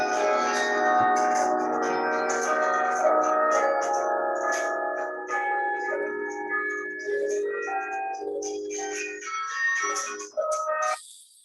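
Carillon bells at the University of Michigan ring out a melodic passage from a large tower instrument, dense overlapping tones sustaining and decaying, loud and continuous with a final struck chord near the end.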